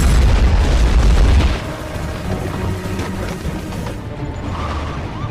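A loud explosion in a James Bond action film, a heavy low boom filling the first second and a half, then a rumbling, crackling tail that fades gradually with no voices.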